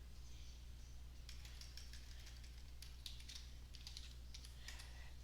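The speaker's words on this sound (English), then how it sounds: "I can just go ahead and type in sudo and my root password." Keyboard typing as a sudo command and root password are entered on a Linux computer, with a steady run of clicky keystrokes in short bursts over a constant low hum, no talking.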